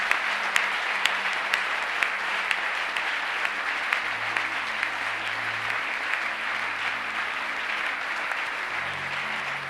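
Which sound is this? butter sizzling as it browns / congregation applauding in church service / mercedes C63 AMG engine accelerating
congregation applauding in church service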